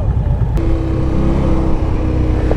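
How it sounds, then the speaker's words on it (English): A loud, steady low engine rumble from a 2016 Indian Scout Sixty motorcycle, close by and continuous, with a deep throaty idle and no voices. "It's fun riding a motorcycle that sounds, you know, grumbles."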